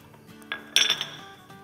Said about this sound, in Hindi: इसलिए हम इसे एक बोल में डाल देते हैं ताकि अच्छे से मसाले सारे मिक्स हो जाएं